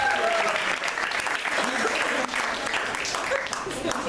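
A crowd at a slam poetry night claps loudly for a performer, a thick, sustained burst of applause with cheering voices mixed in.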